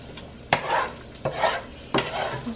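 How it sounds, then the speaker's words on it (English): Sauce for cacio e pepe is stirred in a pan, three scraping strokes of a utensil against the pan with a soft sizzle underneath, close and fairly loud. "Now I'm going to stir it for a minute."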